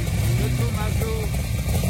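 A De Tomaso Pantera GTS runs with a steady, loud low engine rumble, close by and continuous, with people talking over it at an outdoor car event.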